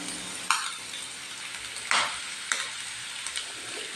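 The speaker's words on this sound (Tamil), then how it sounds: "நீங்கள் எண்ணெய் காஞ்சோன்னு இந்த மாதிரி வெங்காயமே போட்டுருங்க." Chopped onions sizzle steadily in hot oil in a pan, with a few sharp scraping stirs breaking through the constant frying hiss.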